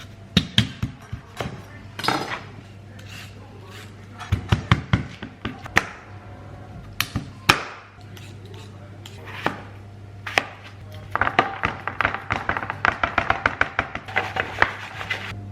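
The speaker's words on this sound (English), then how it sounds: "First thing I'm going to do though is get the potatoes ready. So I'm going to cut them, wash them" A knife chops potatoes, including sweet potatoes, on a cutting board, with close, sharp knocks in irregular bursts that speed into fast runs of rapid strokes, separated by short pauses, without any talking.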